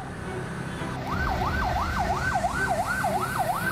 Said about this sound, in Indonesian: 15 mobil pemadam kebakaran dikerahkan ke lokasi untuk memadamkan api